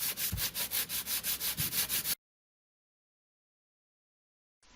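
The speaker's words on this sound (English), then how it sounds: "So I've been sanding this area for quite some time now" Hand sanding of a broken car bumper under repair, a steady run of about a dozen rhythmic back-and-forth rasping strokes lasting two seconds, close and alone, then silence with a faint noise at the end.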